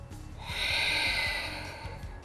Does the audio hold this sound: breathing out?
yes